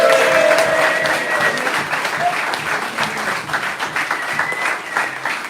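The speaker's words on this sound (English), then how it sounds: "if you can give very, very warm rounds of applause, that would be fantastic" Warm applause from fans greets manager Paul Caddis at a Hereford FC open training session fans' forum, a dense, continuous clapping from a sizeable crowd that carries on steadily for several seconds with faint voices mixed in.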